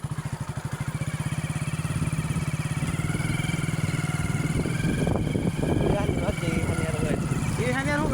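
A motorcycle engine idles close by with a steady, low, rhythmic throb, and someone talks over it for much of the time while the engine note shifts slightly.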